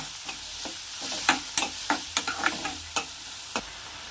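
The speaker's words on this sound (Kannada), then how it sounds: "ಟೊಮೊಟೊ ಫ್ರೈ ಆಗ್ತಿದೆ ಸ್ನೇಹಿತರೆ." Tomatoes fry in a pan for a home-style palya. A soft sizzle runs under about a dozen sharp spatula taps and scrapes against the pan, spaced irregularly.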